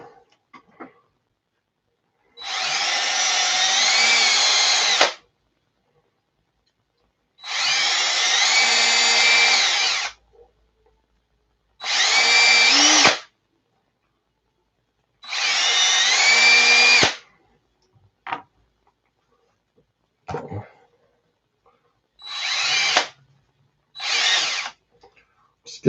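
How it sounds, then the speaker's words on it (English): A power drill bores holes in printed parts for an E3D tool-changer v6 tool assembly, running in about eight separate bursts of a few seconds each, loud and close, with brief silent pauses between them. "Go ahead and start drilling out the other ones."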